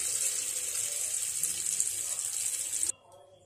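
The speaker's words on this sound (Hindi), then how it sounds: "मैंने गोश्त में पानी डाल दिया," Tap water gushes steadily onto frozen beef in a bowl, a close, strong rushing stream that cuts off abruptly near the end, leaving near silence.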